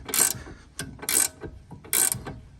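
Ratchet cranking out the pinch bolt on an Audi B8 front control arm, three quick close bursts of sharp clicking with softer strokes between them, no talking.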